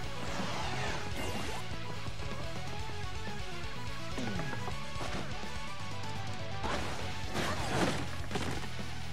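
Smashing and breaking effects from a hidden boss battle against Prince Mush in Paper Mario RPG, a continuous loud stream of crashes, thwacks and whooshes layered over game music, with a cluster of sharp impacts toward the end.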